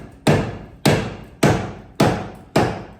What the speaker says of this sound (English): Now we're gonna beat this thing savagely with a sledgehammer because it wouldn't turn.